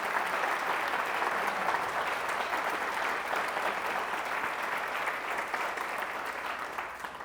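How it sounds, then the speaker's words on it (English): A room of people at a monthly club meeting claps to honor a group of Jesuit students, a sustained, dense round of applause that holds steady and tapers slightly toward the end. "I would just ask you all to recognize them and clap and honor all these 500 Jesuit"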